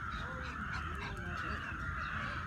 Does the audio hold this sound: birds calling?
yes